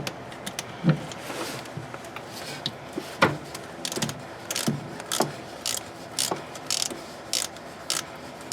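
A ratchet wrench clicks in short irregular bursts while tightening a ground bolt on a 1997 Honda Civic during head gasket work, close up and alone with no talk.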